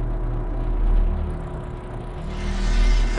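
Spinning saw blades in a UDK tilt-style video game give off a steady low mechanical drone with a constant hum, swelling slightly louder toward the end, with no one talking.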